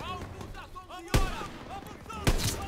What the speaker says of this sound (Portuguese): Eita, aí tem tiro grosso, hein?